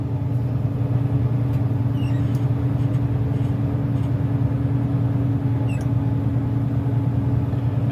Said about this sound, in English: Jake brake's holding us.